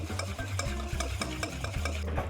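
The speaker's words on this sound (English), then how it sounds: "to my egg, I add a little bit of paprika. Give it a good mix so it's all mixed in." Egg mixed with paprika for schnitzel is beaten in a bowl with quick, even strokes that tap and scrape close by in a steady rhythm, with no talking.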